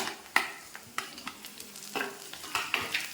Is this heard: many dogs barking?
no